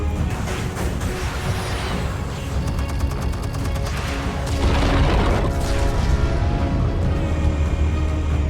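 Explosives detonating in a Batman video game, a deep rumbling boom that swells into a sustained loud roar of blast and debris, preceded by clattering mechanical sounds.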